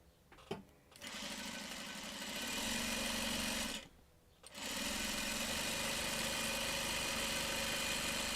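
A sewing machine stitches quilt squares in a steady, close mechanical whir after a few clicks, pauses briefly near the middle, then runs on evenly to the end with no talking.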